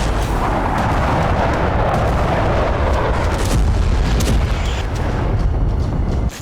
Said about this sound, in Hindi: दावा है कि इजराइल ने यहां टैक्टिकल न्यूक्लियर बम का सफल टेस्ट किया।